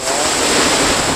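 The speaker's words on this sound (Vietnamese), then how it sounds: "Từng cơn sóng." Surf breaking on the shore at a Phan Rang beach in the morning, a dense, loud, steady roar of churning water with wind noise over the microphone.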